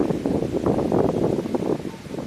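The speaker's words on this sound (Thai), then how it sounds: "ลมแห้งอาจจะบอดอย่างนี้แอดมินนะครับเนาะเสียงลมอาจจะ ดังครับ" Wind sweeping across an open field where cattle are let out to graze, a steady rushing roar that buffets the microphone throughout, with no one talking.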